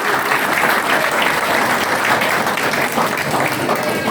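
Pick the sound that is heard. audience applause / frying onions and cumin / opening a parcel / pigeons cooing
audience applause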